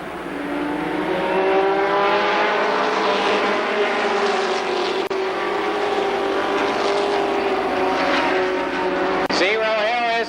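Stock race cars roar around Columbus Motor Speedway on the backstretch, a loud continuous engine drone with shifting pitch as cars pass, under a race announcer's running commentary.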